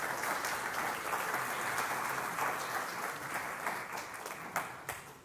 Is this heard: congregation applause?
yes